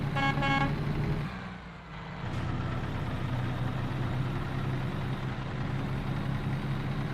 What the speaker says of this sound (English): Give him a little toot toot, let him know we're here.